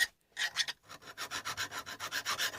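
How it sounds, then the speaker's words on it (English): A metal file rasps back and forth across a hard part of a No. 5 plane under restoration: a brief stroke, a pause, then a steady run of about nine even, close filing strokes with no talk. "It's very hard to file, but it's looking much better now."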